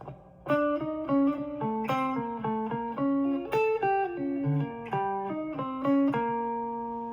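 A slow, unhurried guitar lick, single plucked notes ringing one after another with small gaps, played freely without a steady beat.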